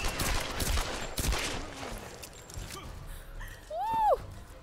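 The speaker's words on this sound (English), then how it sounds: "Stray bullets." Gunfire from stray bullets in the Tomb Raider video game, a dense rattling fusillade in the first couple of seconds that thins out, followed by a rising whistling tone near the end.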